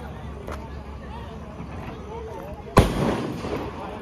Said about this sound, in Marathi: फटाके वगैरे वाजवायचं चाललेलं आहे.